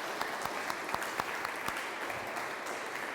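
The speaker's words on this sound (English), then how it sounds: "I would like to give like big applause, if you can do, for all the organizer teams" An audience claps steadily at a conference, a dense patter of many hands with a few sharper individual claps, moderately quiet and without speech.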